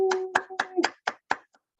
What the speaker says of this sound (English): Everybody clap it up for yourselves.